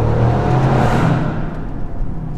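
A 2016 Overfinch Range Rover SVR engine roars loudly up close, then the revving drops away into a lower rumble.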